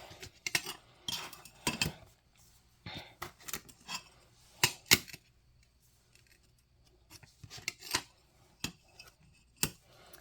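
Glass pieces for fused glass ghost ornaments being scored and cut, a series of short, close, crisp scratching and snapping sounds spaced irregularly, with quiet pauses between, no talking.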